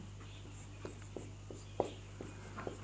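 Chalk or marker writing on a board during a Sanskrit translation lesson, a series of short scratchy strokes and taps at an uneven rhythm, close and fairly quiet over a steady low hum, with no talking.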